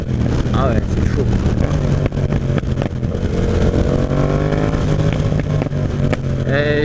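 Yamaha MT-07 Tracer motorcycle with its exhaust baffle fitted, a loud, close, steady engine drone with rising rev sweeps, as someone speaks over the noise.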